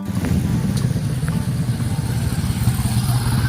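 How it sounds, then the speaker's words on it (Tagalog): Dense motorcycle traffic rumbling past on a busy street, a continuous close engine drone with small surges as bikes go by, no one speaking. "daming motor, diba?"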